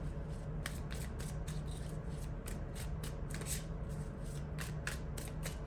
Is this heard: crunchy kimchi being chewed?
no